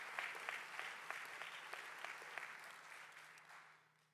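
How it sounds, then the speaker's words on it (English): Audience clapping in a synagogue during an annual president's report, a dense round of applause from many hands that carries on steadily and then fades out toward the end, with no voices. "I'd like to please give them all a big round of applause"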